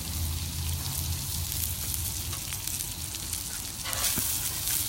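Steak sizzling steadily on a griddle turned down to low heat, a dense even crackle and hiss that runs the whole time, close and moderately loud with no one speaking.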